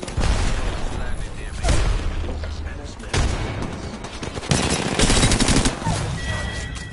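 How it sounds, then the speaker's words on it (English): Video game gunfire rattles in dense, loud bursts separated by brief lulls, with voices mixed in among the shots. "Firing on our foes."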